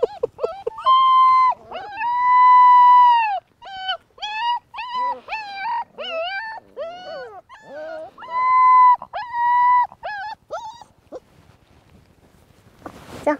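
Livestock guardian puppies howl and whimper in long, drawn-out, wavering cries, one after another for over ten seconds, loud and close, ending with a brief rustle.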